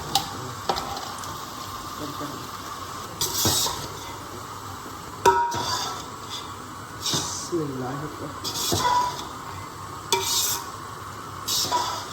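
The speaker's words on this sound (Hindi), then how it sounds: "ये देखिए, अब ये आपने चावल डाल देंगे" Rice poured into a cooking pot for sweet jaggery rice, with a few soft rustling, scraping and stirring bursts close by and someone talking over them.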